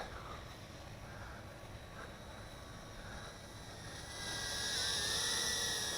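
A Redpawz R010 ducted fan whoop micro drone flies with a thin, high-pitched whine that steadily brightens and grows louder as throttle increases near the end.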